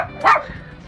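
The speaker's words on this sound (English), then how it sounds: "And my dogs are probably gonna start barking." A single short bark from a dog in a backyard filled with avocado trees, close and sharp, over quiet background.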